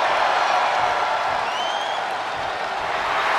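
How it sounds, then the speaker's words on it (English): A large arena crowd at a WWE Survivor Series wrestling event in November 2022 chants and cheers in a steady, loud, continuous roar of mixed voices that holds throughout. "He's getting a huge boost right now from all those chants and cheers."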